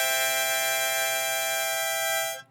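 Harmonica sounding a two-note chord on holes 5 and 6, one steady sustained tone held loud and alone for over two seconds before cutting off.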